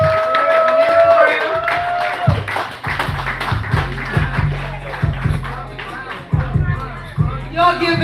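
A comedy club audience claps and cheers for a stand-up comedian, bursts of applause rising and falling under a loud amplified voice talking over the crowd.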